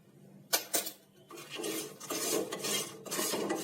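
Peanuts are stirred together with powdered sugar and spices in a bowl, giving a dry, gritty rasping scrape that arrives in a few close, uneven strokes with short pauses between them.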